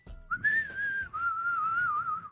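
A person whistles one sustained, wavering tone, a short note then a longer held one, close and clear.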